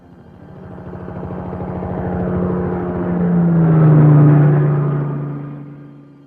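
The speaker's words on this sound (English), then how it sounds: "Chopper." An XK-20 helicopter passes overhead, a steady rotor drone and low rumble that swells in loudness toward the middle and then fades slightly, with no voices.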